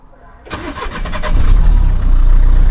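A Renault 1.5 dCi diesel car engine cranks briefly and catches, then settles into a loud, steady diesel idle close by.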